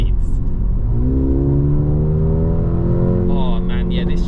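A Mercedes-AMG A35 accelerates hard and shifts, its engine note rising steadily before a gear change brings a burst of crackling exhaust pops, loud and close from inside the car.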